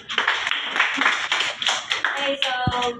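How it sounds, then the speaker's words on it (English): A classroom of students clapping hands together in a dense, lively burst of overlapping claps lasting a few seconds, with a brief tonal voice or whistle near the end. "Very good. Clap your hands."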